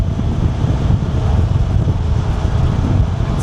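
Strong wind blows loudly and steadily against the microphone on an outdoor ride as it climbs upward, a continuous low rumble and roar with no voices heard.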